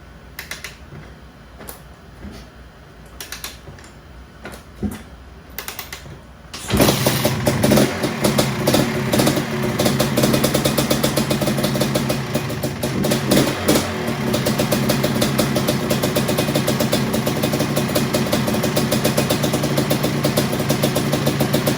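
A Quadzilla Suzuki LT500 ATV engine starts after a few quiet clicks and settles into a loud, steady idle on its first heat cycle, with slight throttle blips, close up and with no talking.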